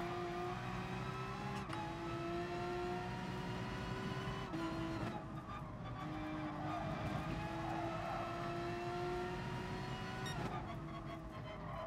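A Porsche race car engine in the video game GT Sport drones at steady high revs, with several sharp gear-shift drops and climbs in pitch across the stretch, heard from inside the car at low volume.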